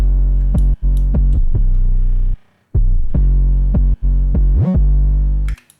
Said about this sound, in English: I used an 808 loop, which by default sounds like this.